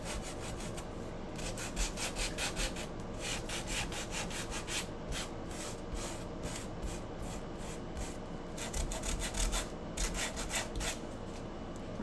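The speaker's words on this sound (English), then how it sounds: "take my sander. This is 80 grit." Power sander fitted with 80-grit sandpaper works over a wooden Halloween cut-out, giving a steady close abrasive whir with rhythmic rubbing pulses as the pad passes back and forth, with no voices.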